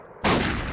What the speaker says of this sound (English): I got a gunshot here somewhere, right?